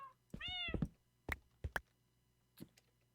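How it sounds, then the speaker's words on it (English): Cats meow repeatedly in the Minecraft video game, several distinct calls close by with short gaps, over a quiet steady background hum. "the cats are over here making a lot of noise"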